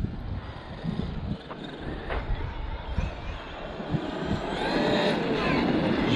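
A Traxxas X-Maxx RC monster truck on worn-out tyres, its electric motor whining and surging as it drives nearby, rising louder toward the end amid scuffing and outdoor noise.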